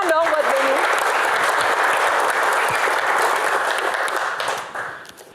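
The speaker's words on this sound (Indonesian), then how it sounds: "Oke, tepuk tangan dong buat Benny." Audience at a comedy Q&A applauding Benny, a loud, thick roar of clapping held for about four seconds before fading away.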